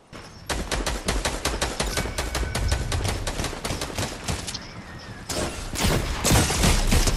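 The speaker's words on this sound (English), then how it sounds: "Stop shooting at me." Fortnite gunfire crackles in fast, loud bursts of sharp repeated shots, briefly easing off before resuming heavier near the end.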